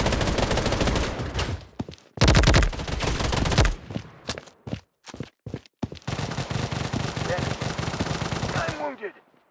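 Automatic gunfire in the battle royale video game Blood Strike, loud dense bursts of rapid shots with brief gaps between them, with a game voice speaking over parts of the action.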